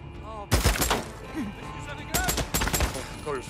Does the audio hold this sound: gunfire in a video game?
yes